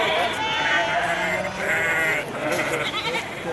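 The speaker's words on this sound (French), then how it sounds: "Les chèvres étaient attachées à des poteaux, ou bien à la clôture, et beuglaient très bruyamment." Goats tethered to posts and fences at the Nizwa market in Oman bleat loudly and repeatedly, several overlapping cries over a noisy, crowded background with voices.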